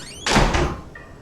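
A single door in the video game Outlast swings shut with a loud thud and slam, then a brief trailing rattle fades out. The sound comes alone against a quiet background, with no talking.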